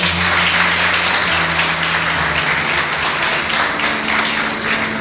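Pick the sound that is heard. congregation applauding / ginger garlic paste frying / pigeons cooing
congregation applauding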